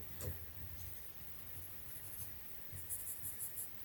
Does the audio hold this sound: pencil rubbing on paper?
yes